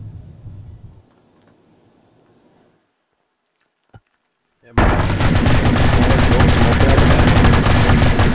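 Dense, continuous rapid gunfire during a competitive multiplayer game match, bursting in loud and sustained after a quiet lull and a single sharp crack, with a commentator's voice faintly heard beforehand.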